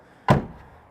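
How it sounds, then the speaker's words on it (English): The door of an old GMC grain truck swings shut with a single solid thunk, close and loud, followed by quiet. "They are not going to make a new truck door to close that as nice as that."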